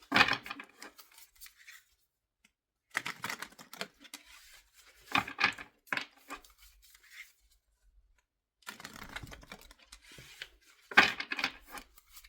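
A tarot deck is shuffled in short bursts of papery riffling and rubbing, close and quiet, separated by pauses of near silence.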